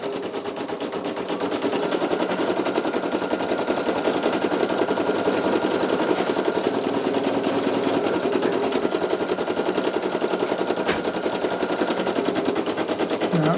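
A Brother PE800 embroidery machine stitches a design onto a towel, its needle hammering in a fast, steady mechanical rhythm that stays loud and continuous throughout.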